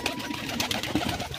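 A pigeon coos softly at close range, a brief low burbling call over a faint busy background, with no talk.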